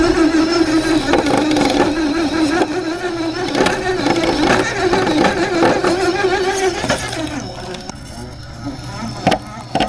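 A rock crawler RC car's outrunner motor driven by a Furitek Unity ESC whirs and rises and falls with throttle, its gear noise close, while someone talks over it most of the way.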